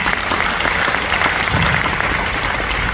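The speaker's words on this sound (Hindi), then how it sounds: "उनके प्रति आभार की एक बार जोरदार तालियां।" An audience in a hall breaks into loud, sustained applause, a dense wash of clapping hands that holds steady throughout without pause.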